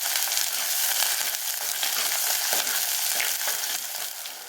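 Small shallots frying in hot oil for a Tamil fish curry, a dense, steady sizzle with light stirring, close and fairly loud throughout, easing slightly at the end.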